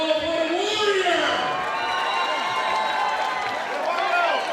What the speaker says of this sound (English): Let's hear a round of applause for Sean Wolf, what a warrior!